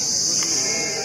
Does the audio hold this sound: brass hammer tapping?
no